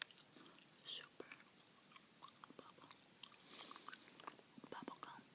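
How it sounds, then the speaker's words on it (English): Bubblegum is chewed close to the microphone in soft, wet, irregular smacks and clicks, quiet and intimate in a whispery setting. "This is the bubblegum I'm chewing tonight"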